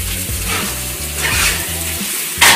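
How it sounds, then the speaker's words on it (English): Steaks searing in a hot pan give a steady, close broadband sizzle with a low hum underneath, ending in a brief louder hissing flare. No one speaks. "Okay, so we're gonna flip the steaks."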